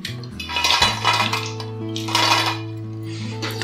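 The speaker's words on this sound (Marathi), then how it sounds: "तुम्हाला आवाजावरून पण कळेल ते किती कुरकुरीत झाले." Crispy fried soya chunk pakoras are lifted from a kadhai, rattling and clinking against the metal in short bursts, with a steady tonal hum underneath and no talk.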